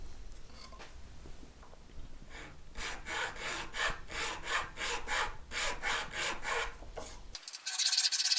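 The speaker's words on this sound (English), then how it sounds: "open up the top of these fret slots ever so slightly with a little triangular file" A small triangular file chamfers fret slots in a guitar fretboard during an ES-335-style build, giving about a dozen quick, even rasping strokes in a steady rhythm at close range.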